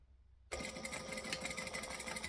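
After a quiet moment, a sewing machine starts up suddenly and runs steadily, its rapid clattering stitch close and clear as it sews a travel bag seam.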